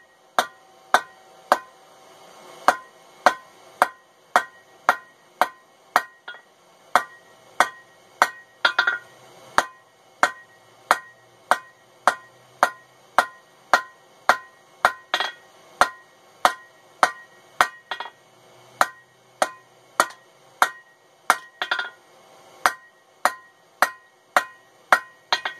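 Hammer blows on hot steel while forging chain making tongs, a long run of sharp ringing strikes at an even, steady rhythm, close and clear, with a few brief pauses and heavier hits.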